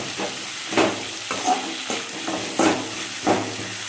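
Tuber curry ingredients frying in a pan while being stirred: a steady close sizzle broken by about five louder scraping stirs at a loose rhythm, with no talking.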